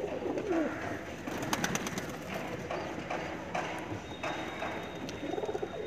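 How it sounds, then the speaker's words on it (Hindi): Kasni pigeons coo softly among other bird sounds, with scattered clicks and faint knocking around them, fairly quiet and in the background. "कासनी पिजन काफ़ी अच्छी क्वालिटी में है।"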